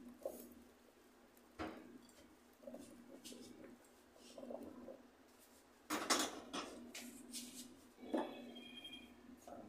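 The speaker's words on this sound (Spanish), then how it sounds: "Y vamos a poner aquí las zanahorias, el pimiento rojo" Carrots and red pepper tipped into a pot for a chickpea stew, giving a few clattering knocks of vegetables and utensils against cookware, spaced across the clip and fairly quiet.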